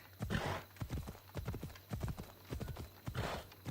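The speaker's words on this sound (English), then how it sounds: "Go faster, horse." Rapid rhythmic hoofbeats of a galloping horse in the video game Assassin's Creed Odyssey, close and steady, with a brief whinny mixed into the clip-clop.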